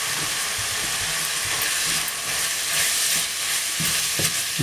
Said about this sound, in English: Give that a good stir in.